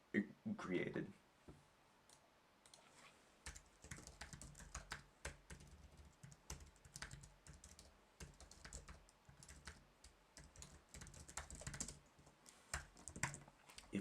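Computer keyboard typing while entering Java code, a steady run of quick clicking keystrokes with uneven rhythm, fairly close, mixed with some background noise throughout.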